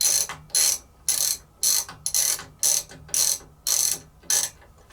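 A socket wrench ratchets on the crank arm of a NordicTrack elliptical, a close, crisp clicking run repeated in about nine short, evenly spaced strokes with brief pauses between.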